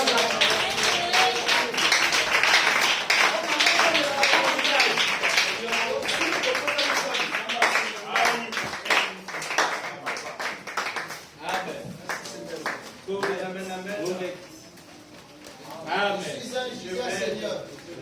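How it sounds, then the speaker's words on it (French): A congregation at a French-language church service claps, with sharp hand claps running through loud voices and talk that continue over them, sometimes thinning and then picking up again. "Acclamons très fort pour ça."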